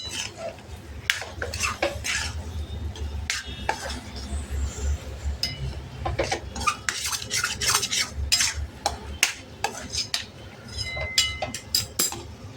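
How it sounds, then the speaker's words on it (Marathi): Semolina sheera cooked in ghee is mixed in a pan, producing close, busy scraping and metallic clinks of a spoon against the pan in irregular bursts over a low background rumble. "हे बघा शिऱ्याला आजूबाजूने तूप सुटतंय. परत छान मिक्स करून घेऊया."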